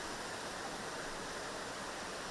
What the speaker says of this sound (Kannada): ಕಾರ್ಪೊರೇಷನ್ ಸರ್ಕಲ್ನಲ್ಲಿ ನೀರು ಮ್ಯಾನ್ಹೋಲ್ನಿಂದ ಹೊರಚಿಮ್ತಿರುವಂಥ ದೃಶ್ಯ